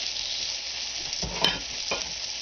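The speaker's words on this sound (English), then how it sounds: "then I have my butter in this pan here, and fish cooks very quickly." Battered fish fries in butter in a pan, a steady close hiss and crackle of sizzling with a couple of brief louder pops and clatters, with no voices.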